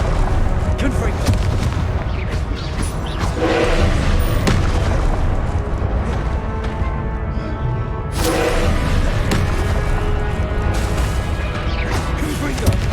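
Confringo blasting spells going off in the Hogwarts Legacy video game, booming explosive bursts in a busy combat mix, with a sharp loud blast partway through and a continuous dense rumble around it.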